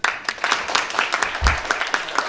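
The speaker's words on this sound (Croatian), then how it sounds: "jedan veliki aplauz za nju" A hall audience at the MISS NEW FACE BiH 2022 pageant claps for a young presenter, a dense run of fairly close hand claps, with a voice briefly heard over it.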